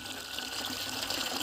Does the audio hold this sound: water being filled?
yes